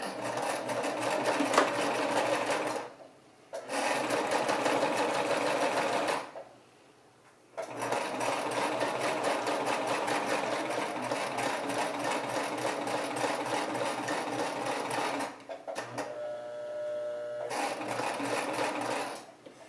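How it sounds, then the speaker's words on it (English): Sewing machine stitching fabric for a baby hat, running in rapid continuous bursts of several seconds each, separated by short pauses, loud and close with no talking. "so I'm going to start sewing"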